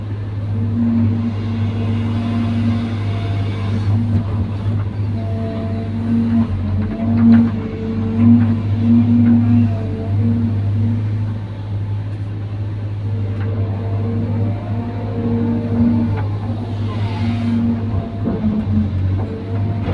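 An old motor grader engine running during road construction work, a loud steady low diesel drone with a strong hum and occasional rises in revs, continuous and close.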